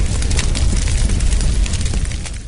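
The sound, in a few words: dumpster fire sound effect from haunted soundboard program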